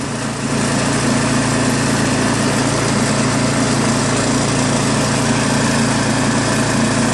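A Craftsman snowblower's small Chinese-made engine, just recovered from an ethanol-clogged carburetor, runs steadily at close range, a constant buzzing drone with no pauses or changes in speed.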